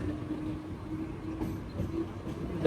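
A train running at speed, heard from inside a carriage on a Mumbai rail journey: a steady low rumble with a faint rhythmic rattle throughout, no talk.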